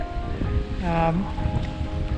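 Steady afternoon wind rushes across the microphone while lure fishing, with a brief tonal whine cutting through the middle of the gusty roar.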